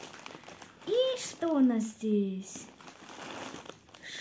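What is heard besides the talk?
scissors cutting open a plastic parcel package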